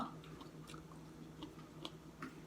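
Close, wet chewing and biting on sour mango, with soft crunchy bites recurring every half second or so against a low steady background hum; no talk over it.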